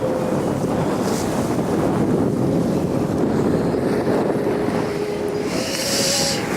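Steady wind at sea rushes past a sailing boat at sunrise, a constant broad roar of gusts over the hull with water hiss and a brief brighter gust near the end.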